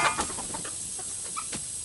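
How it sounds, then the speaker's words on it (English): Homestead chickens cluck and chatter softly nearby in a few short, irregular calls over a steady background hiss. "My chickens want to get out"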